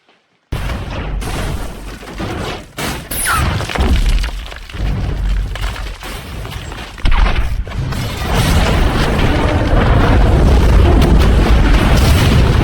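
A large explosion in The Dark Knight film: booming blasts with shattering, breaking debris and crashing impacts, followed by a loud sustained roar of rumbling fire and wreckage that continues without voices.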